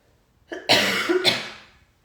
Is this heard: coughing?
yes